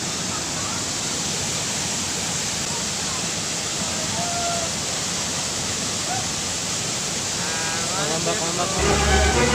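Steady, broad roar of Mabanog Falls, a waterfall heard close and constant throughout, with faint voices mixed in and a brief rise in noise near the end.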